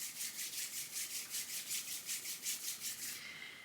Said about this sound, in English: You can begin to rub your hands together at your heart center.